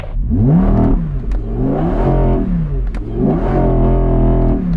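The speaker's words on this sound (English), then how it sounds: "That sounds like a supercar, right?" An Audi sports car engine, either an RS6 or an R8, revs hard in three rising surges, loud and close, with the pitch climbing and dropping between each pull.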